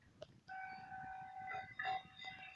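Jatiluhur passenger train on the Cikampek–Tanjung Priok line in Indonesia: a sustained two-tone horn blares at mid distance, wavering and swelling, over a low rolling rumble of the passing cars.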